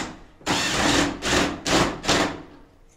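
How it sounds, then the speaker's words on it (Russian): Self-tapping screws are driven into wall plugs during home ventilation installation, heard as four close, loud bursts of a power driver's whirring, each lasting about half a second with short pauses between. "Дальше в эти дюбеля начинаем закручивать саморезы."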